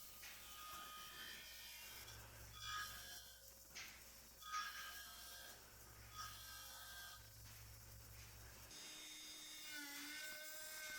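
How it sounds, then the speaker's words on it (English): A router clamped in a bench vise rounds over the edges of a wooden push stick, making a high whining spin with intermittent cutting bursts as the wood is fed, then spinning down near the end. "we'll just round it all over with a router"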